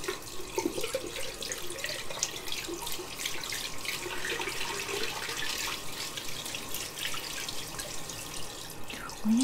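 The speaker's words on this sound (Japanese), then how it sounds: "はい、ではシャワー出していきますね。" Shower water runs at a salon shampoo basin, a steady hiss and patter that continues evenly throughout with no talking.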